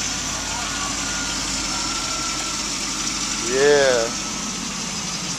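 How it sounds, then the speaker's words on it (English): A Trans Am or 1972 Chevrolet C10 idles through a new Borla exhaust with a 3-inch pipe back, giving a steady, low, continuous rumble. A brief spoken word is heard partway through. "Check out the new Borla exhaust note."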